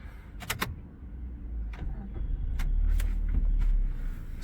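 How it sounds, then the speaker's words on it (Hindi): A Maruti Brezza's engine cranks and starts inside the cabin, rising into a steady low idle hum after a few clicks and clunks from the controls, with no talking over it. "और गाड़ी को यार करते हैं स्टार्ट।"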